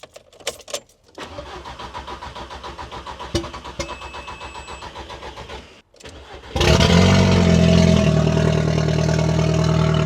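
An Audi MK1 TT engine cranks with a rapid whirring starter for several seconds, pauses, then catches and roars into a loud, steady idle.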